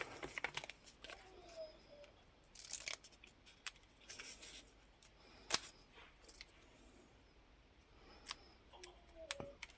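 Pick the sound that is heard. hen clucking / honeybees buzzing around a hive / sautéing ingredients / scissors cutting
scissors cutting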